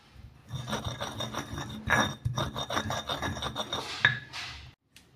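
Peeled garlic and black peppercorns are ground into a paste, giving rhythmic gritty rasping strokes with light clinks. The strokes come close and steady for about five seconds, then stop.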